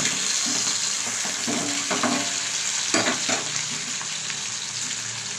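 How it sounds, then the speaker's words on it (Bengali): Bhola fish frying in oil give a continuous bright sizzle, with a few louder bursts of spatter and stirring scrapes along the way, and no one talking. "আবার এইভাবেই ভেজে নেব সব মাছগুলো"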